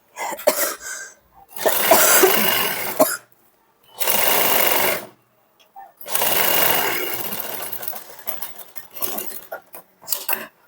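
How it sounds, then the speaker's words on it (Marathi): A sewing machine runs in several bursts while stitching a blouse fitting seam, loud close whirring runs of about a second or two each separated by short pauses, with brief handling noises between. "आता आपण फिटिंगची शिलाई मारूया"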